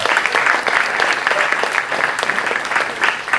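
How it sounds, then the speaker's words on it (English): An audience at a film festival conversation session gives a steady, dense round of applause, close and fairly loud throughout with no talking over it. "A round of applause,"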